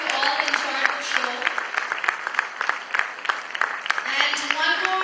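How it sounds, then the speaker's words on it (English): An audience claps in lively, dense applause for artists on stage at a talent show event, loud and close, with a voice speaking over the clapping. "A big round of applause for all the artists on stage"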